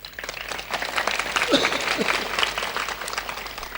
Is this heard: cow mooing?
no